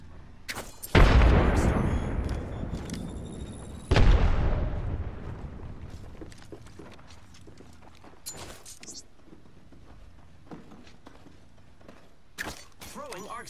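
Two heavy, booming grenade blasts from Apex Legends, each a sudden loud crack followed by a long rumbling decay, with sparse clicks and small game sounds in between and a short burst near the end.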